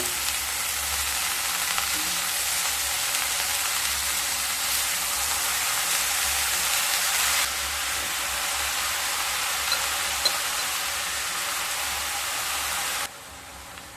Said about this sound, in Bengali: সমস্ত শাক একসাথে দেব না, অল্প অল্প করে দিয়ে নেড়ে নিয়ে আবার দেব।